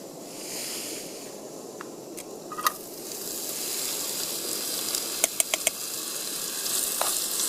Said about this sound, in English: I'm just going to fry this in a couple of batches, just for a couple of minutes each batch